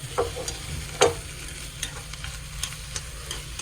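Boiled green peas being stirred in a pan, with a few soft scraping and clinking strokes spaced irregularly over a quiet sizzling background, no voices.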